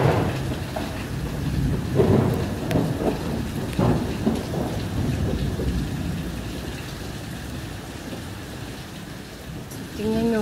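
Heavy rain pours on Corfu island during a thunderstorm, a continuous dense roar with a few low rumbles of thunder near the start, and faint voices come through now and then.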